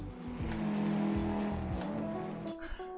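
Race car engines from RaceRoom sim racing, Audi GT3 and TT-RS, rev and shift through gears, with tonal engine whines rising and falling and a brief tyre squeal near the end.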